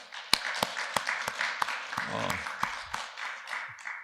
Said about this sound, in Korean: 주님 앞에 다시 한번 감사와 영광의 박수 올려드리겠습니다.